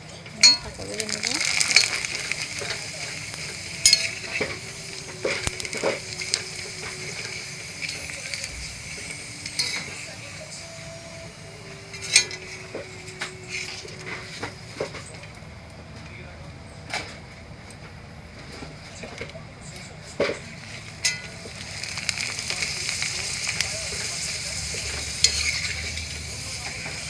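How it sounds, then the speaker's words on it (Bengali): Broken papad pieces fry in refined oil in a wok, a steady close sizzle broken by scraping stirs and clinks of a spatula against the pan, with occasional sharper knocks. "পাঁপড় ভেজে নেব।"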